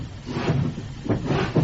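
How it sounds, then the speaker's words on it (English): A train carriage door swings shut as the train pulls away, a close, heavy wooden thump with a short rattle and a second knock after it. "another man climbed in, swinging the door shut as the train began to pull away."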